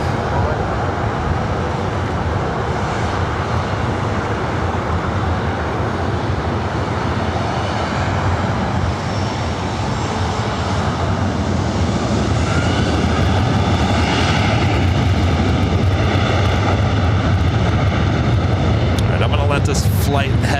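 A 17-year-old Singapore Airlines Boeing 777-300ER takes off from runway 24 right at LAX, its engines roaring loudly and steadily throughout with a deep rumble, while a voice talks over the noise.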